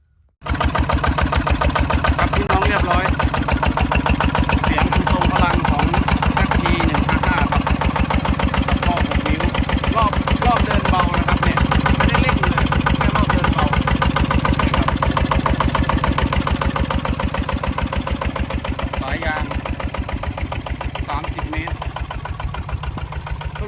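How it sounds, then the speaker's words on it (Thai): A 6-inch water pump's engine, used for pumping water into a dry-season rice field, starts and then runs at a steady, loud, rapid chug throughout, close by and continuous, with faint voices underneath. "เดี๋ยวขออนุญาตติดเครื่องก่อนนะครับ"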